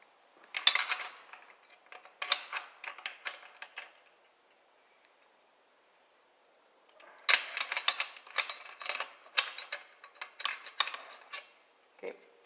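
Wrench tightening a nut on a 1968 Mustang shifter linkage, quick bursts of light metallic ratcheting clicks, a pause of silence, then more rapid clicking, close and fairly quiet.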